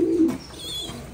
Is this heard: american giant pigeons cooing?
yes